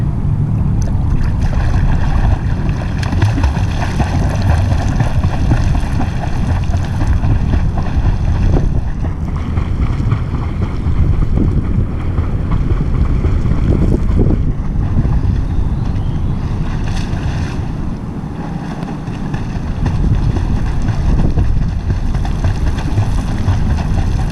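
Front crawl flutter kick churning the water, a loud, continuous splashing wash that runs almost unbroken throughout, with a brief dip in intensity near the end.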